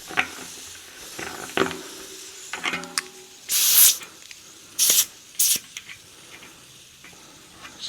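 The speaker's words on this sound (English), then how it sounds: "the leakage that we're hearing is from the valve here" Air hisses out of the valve on a tubeless bicycle tire in several short bursts, a few brief spurts followed by longer sprays, close and loud with nothing else heard.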